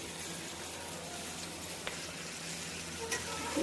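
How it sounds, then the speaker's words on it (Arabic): Chicken pieces sizzle steadily while being sautéed in a pan, a constant close frying hiss with a few faint stirring clicks. "تدي الفرخة كده تشويحة معاكي."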